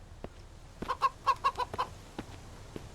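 In the video game Mist Survival, a chicken clucks in a quick run of about six soft, evenly spaced notes, heard faintly at a distance over a low background hiss with a few scattered clicks.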